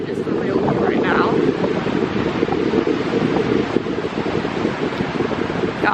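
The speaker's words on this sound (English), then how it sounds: "it is a bit of a windy day, so we're getting some waves here on the beach" Steady wind buffets the microphone in a constant low roar, with waves washing in continuously on a lake beach in Michigan's Upper Peninsula in October, no clear breaks.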